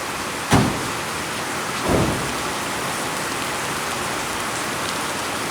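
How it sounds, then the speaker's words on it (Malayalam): Steady, dense rain pours throughout, with two brief louder thumps near the start standing out over the constant hiss. "നല്ല കട്ട മഴ കാരണം ഇങ്ങനെ നിൽക്കും കേട്ടോ"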